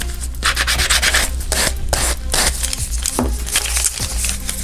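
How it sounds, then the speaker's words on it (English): Plastic chain gets a light sanding, heard as close, scratchy rubbing strokes in quick, uneven bursts with short pauses between. "So give it a light sand."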